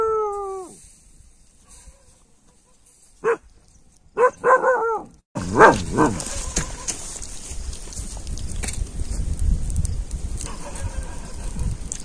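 Village dogs barking: a few sharp barks and yelps with a howl-like whine, ending in a louder close bark, then continuing amid ambient household noise.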